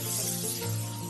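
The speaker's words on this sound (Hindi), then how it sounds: "इसको थोड़ा सा फ्राई कर लेंगे प्याज के साथ अच्छे से" Onions frying with homemade ginger garlic paste in a pan for an aloo matar methi dish, giving a steady, close sizzle with a soft continuous hiss throughout and no talking.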